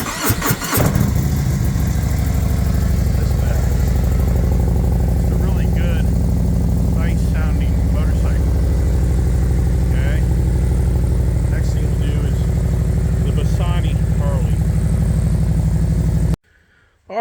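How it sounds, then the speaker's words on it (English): A Harley motorcycle fitted with its exhaust fires up with a sharp burst, then holds a loud, deep, steady rumble close by for most of the stretch, with faint chirps above, before cutting off abruptly. "let's listen to the Harley, which I think is just I think this Harley has such a nicer sounding exhaust"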